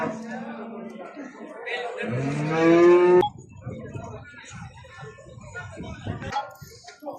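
A single long, loud moo from cattle rings out at a livestock market, followed by background talk and crowd noise.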